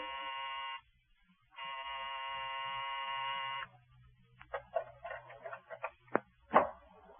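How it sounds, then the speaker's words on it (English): A night buzzer on a solid, square office building in a radio drama, sounding two loud, sustained harsh electric buzzes, the second longer, followed by faint scattered knocks and clatter. "when you pressed the night buzzer, it growled at you"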